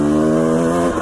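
A hydrogen-powered dirt bike rides single track on trails near Stanley, Idaho, in the Sawtooth Mountains, with a loud, close, steady engine drone through a brief moment.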